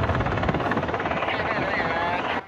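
A rescue helicopter flying during mountain search operations in Taiwan, a steady rotor drone heard under a news narrator's voice.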